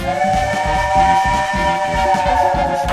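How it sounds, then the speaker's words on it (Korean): A train arriving in the video game Amazing Frog blows a loud, sustained steam whistle over a rhythmic chugging rumble, the tone holding steady for several seconds up close. "어 저기 뭐 기차 온다 온다 저기 저 봐봐 저 기차 아니야?"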